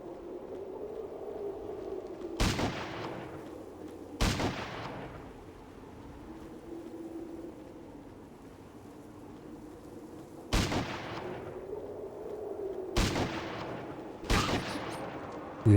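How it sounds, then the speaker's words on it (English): Point-blank shotgun blasts in Fallout Tactics: Brotherhood of Steel, five loud booming shots spaced irregularly over a steady low background hum, close and punchy with no talking. "get point blank shotgun to the face"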